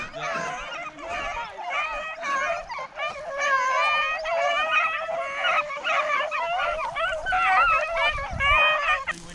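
Pack of beagles baying on a rabbit hunt, several overlapping wavering howls and yelps carrying on steadily and fairly close, with little pause throughout.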